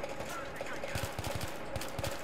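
Gunfire in the Battlefield 3 video game on PS3: a rapid run of sharp shots and bursts, fairly close, over a steady game soundscape.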